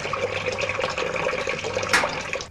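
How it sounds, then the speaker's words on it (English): Water gushes through a washing machine's solenoid valve, a steady rushing, hissing flow held at an even level from start to finish, with no voices. "water gushes in, released by a sort of electric tap called a solenoid valve"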